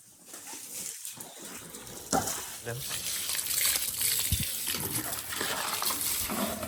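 Steady rushing and splashing water, like a tank spilling over, runs throughout with a few voices and knocks mixed in.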